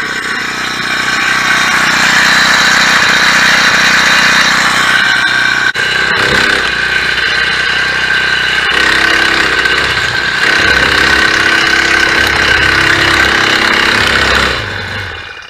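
A four-stroke engine on a motorised bicycle runs steadily after a pull start, a loud, continuous buzzing drone that holds for about fourteen seconds and then cuts off near the end.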